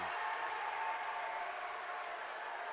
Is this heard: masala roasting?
no